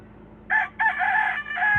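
A Sweater breed gamecock rooster crows nearby in a backyard, a loud, strained call broken into a few bursts lasting under two seconds.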